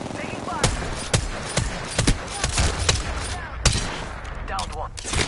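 Gunfire in the video game Apex Legends rattles in quick repeated shots and bursts, loud and close, with game voice lines mixed in among the shooting.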